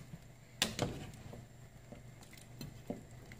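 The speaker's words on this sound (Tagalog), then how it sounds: "Haluin lang ulit." A spoon stirs pork sinigang in a pot, giving a few soft splashing, scraping knocks close by, spaced irregularly over a few seconds with quiet simmering between and no talking.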